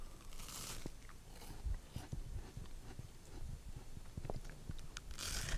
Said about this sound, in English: I'm going to give this a bit of a crunch